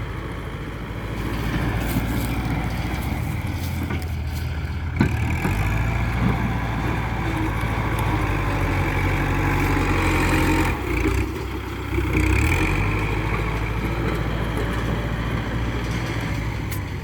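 A Kubota tractor, an L4708SP or L5018, idles with a steady low diesel rumble. The note holds even for about seventeen seconds, with slight surges and a few clunks, and nobody speaks.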